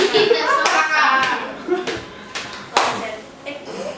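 Children in a learning activity clap their hands in a few separate bursts, mixed with their chatter and voices between the claps.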